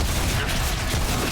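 Dense, continuous rapid enemy gunfire in Remnant: From the Ashes, loud and unbroken for a brief burst, with no clear speech over it.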